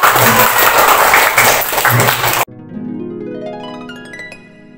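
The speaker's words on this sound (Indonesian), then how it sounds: "kita kasih tepuk tangan yang meriah" Loud applause from a crowd at a third-grade school drama performance fills the first half, then cuts off abruptly as a bright musical chime sounds.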